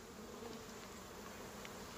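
Honey bees hum in a soft, steady drone at an open hive during a spring split, faint and continuous with no voices.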